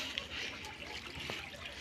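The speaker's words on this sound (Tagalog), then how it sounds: "ayan tumutulo na to dito" Water trickles and drips inside a new fishing boat, a faint, steady wet patter with a couple of brief splashy drops, quiet and close with no talking.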